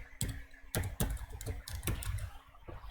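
Typing into a spreadsheet cell on a computer keyboard: sharp, irregular keystroke clicks, close and moderately loud, with short pauses between bursts and a faint steady hum underneath; no voices.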